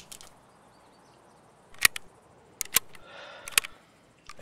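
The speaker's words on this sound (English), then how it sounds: "Need to reload my magazine." Rifle magazine reloading in the video game Escape from Tarkov, several sharp metallic clicks and clacks spaced irregularly against a quiet background, with a short rustle between them.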